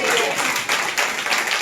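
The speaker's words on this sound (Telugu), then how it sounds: "చప్పట్లు కొట్టండి ఒకసారి" A church congregation at a fasting prayer service claps hands together, a few quick bursts of rhythmic clapping close and fairly loud, mixed with some voices.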